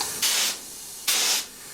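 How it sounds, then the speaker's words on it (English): A paint spray gun, its pattern narrowed to a dot, sprays paint inside a box section on a camper van panel. Two short, loud hissing bursts of about a third of a second each are separated by a brief pause, with no voices. "then began spraying inside the box section."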